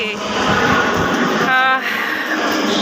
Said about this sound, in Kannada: Madras railway station Indian railway station ಇದು